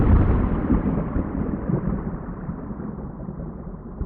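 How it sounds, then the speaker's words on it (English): Thunder imagined on Venus rolls as a loud, deep rumble that starts strong and slowly fades over several seconds, with no voices. "So you might hear thunder."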